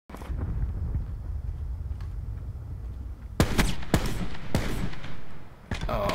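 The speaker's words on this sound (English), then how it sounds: "I was shooting through a box" Semi-automatic SDM marksman rifle fire in Black Ops 4 multiplayer: a low rumbling game ambience, then from about halfway through several loud, sharp single shots spaced about half a second to a second apart.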